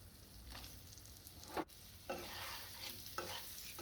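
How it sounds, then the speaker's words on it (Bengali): Vegetables such as ash gourd fried with spices and black cumin in a pan, a quiet continuous sizzle broken by several scraping stirs of a spatula. "সবজি দিয়ে নাড়াচাড়া করব ভালোভাবে করে মশলাটাকে সবজির সঙ্গে মিশিয়ে নেব"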